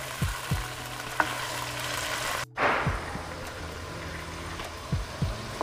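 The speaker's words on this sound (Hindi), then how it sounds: "तब तक फ्राई करते हैं।" Meat sizzles steadily in a pan for a tinday gosht (apple gourd) curry, a continuous frying hiss broken by occasional stirring clinks and scrapes, heard close and alone.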